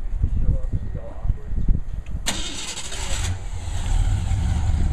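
A 1965 Ford Falcon engine runs with a low, steady rumble that persists throughout, briefly joined by a brighter burst partway in, with some movement and handling noise near the start.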